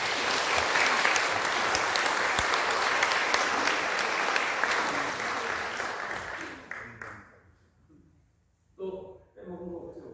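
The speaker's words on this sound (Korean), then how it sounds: "우리 한번 박수 한번 하십시다" A church congregation applauds, a dense, loud burst of clapping that carries for about six seconds and then fades out, followed by a short spoken remark.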